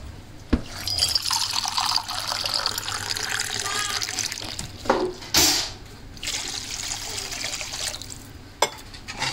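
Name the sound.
water being poured into pan with fried semiya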